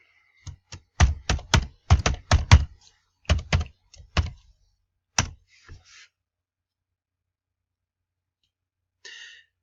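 Keys tapped on a computer keyboard while logging in, a quick close burst of clacking strokes, then a few scattered taps and a short pause, followed by a faint final sound near the end.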